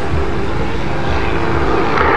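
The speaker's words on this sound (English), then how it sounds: "The aircraft fully stalled, inverted, but totally under control." A CAP232 aerobatic propeller plane flies freestyle aerobatics at the Bournemouth Air Festival, its engine giving a loud, continuous droning roar that swells slightly toward the end, with no voices.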